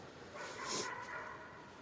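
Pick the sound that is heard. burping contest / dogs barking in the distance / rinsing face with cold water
dogs barking in the distance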